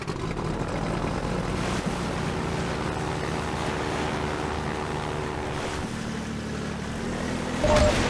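Small motorboat in the Half-Life 2 video game, steady droning engine and rushing water with wind-like noise, continuous and loud throughout, no talking.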